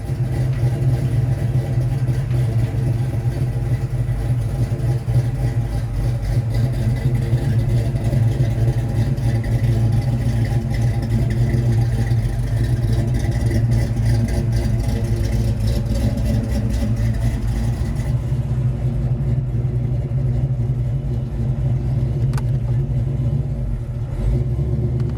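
Fox Body Mustang engine heard from inside while driving in the early morning, a loud steady low rumble with mild revving changes, easing slightly near the end; no talking.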